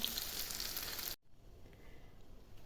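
Minced meat cutlets with cheese fry in a pan, giving a steady, bright sizzle that cuts off abruptly to a much quieter hiss.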